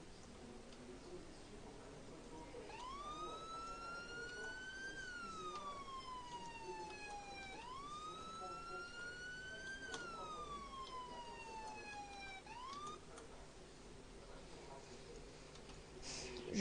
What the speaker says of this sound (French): On va se mettre en sirène brigade d'intervention.